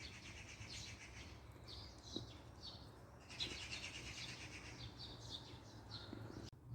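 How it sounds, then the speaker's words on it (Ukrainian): Several birds chirp and sing at a distance, soft repeated calls over steady outdoor background noise. "Подивіться, як гарно пташки співають"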